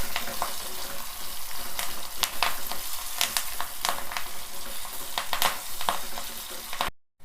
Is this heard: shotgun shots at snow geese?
no